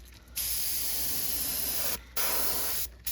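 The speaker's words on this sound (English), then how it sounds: "let me get some paint in the brush and we'll spray this guy up" An airbrush sprays paint onto a crankbait fishing lure in long steady hissing bursts, two brief pauses breaking the continuous close-up spray.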